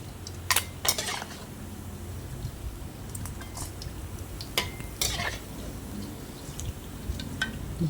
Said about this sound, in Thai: ตักใส่กระชอนให้เสด็จน้ำมันนะคะ